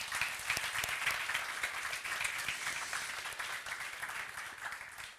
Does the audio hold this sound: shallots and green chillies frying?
no